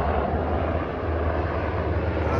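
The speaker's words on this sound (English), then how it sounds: "if you hear this noise, it's a helicopter" A helicopter near a military air station drones steadily overhead, a loud continuous engine roar with a low rotor thrum and no other sounds.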